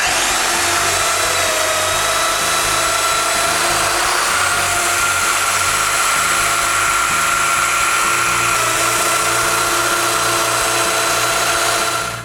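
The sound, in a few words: power drill boring mortises in wooden rails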